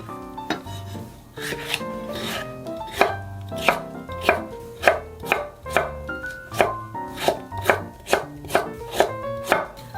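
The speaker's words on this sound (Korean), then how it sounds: "깎은 다음에 먹기 좋은 크기로 좀 잘라주세요" A knife chops broccoli on a cutting board in a quick, steady rhythm of close, crisp thuds, about two strikes per second, with no talking.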